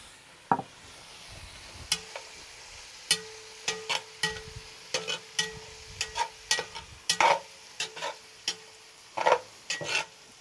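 Meat fries in a pan while mesquite seasoning is stirred through it, giving irregular scraping and clinking strokes of a utensil against the pan over a faint sizzle, with no talking.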